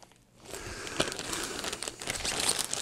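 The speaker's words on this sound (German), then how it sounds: "wollen wir jetzt mal auspacken" Close, steady crinkling of plastic packaging as a two-pack of RAVPower NP-FW50 spare camera batteries is unwrapped, with sharper crackles among the continuous rustle.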